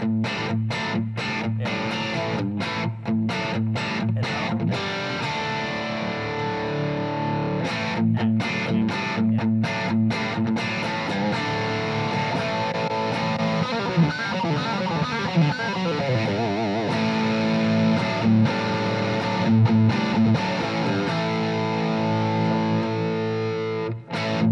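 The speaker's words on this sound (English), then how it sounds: "The more classic sound on the vintage channel, just to see." Heavily distorted electric guitar with a PAF humbucker, played through the vintage channel of a Mesa Dual Rectifier, loud and continuous with chugging chords and sustained ringing notes, no voices.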